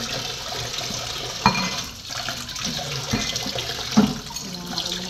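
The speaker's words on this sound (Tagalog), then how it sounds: "So guys, maghuhugas muna ako. Kasi marami na akong hugasin." Tap water runs steadily over dishes in a kitchen sink, with occasional clinks and splashes close by and no talking.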